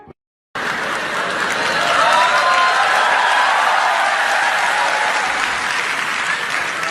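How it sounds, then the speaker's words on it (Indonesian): Loud, sustained applause from a crowd, dense clapping that starts abruptly after a brief pause and holds steady throughout. "Tepuk tangan buat apa itu?"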